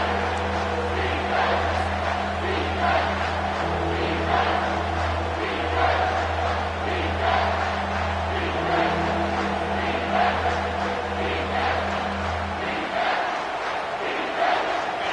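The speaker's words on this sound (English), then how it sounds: "The crowd elevating its energy, willing this defense to get a stop on this big third down." A stadium crowd roars continuously in an NCAA college football video game against Ohio State before a big third down, a steady loud swell of cheering with a low drone underneath.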